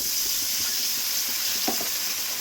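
Turmeric, Kashmiri chilli and cumin powder frying in oil with a splash of water for a vegetarian raw papaya curry, giving a steady close sizzle with a few soft stirring scrapes.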